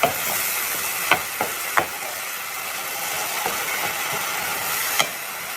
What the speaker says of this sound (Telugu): సో ఆనియన్స్ అయితే ఫ్రై అయిపోతున్నాయి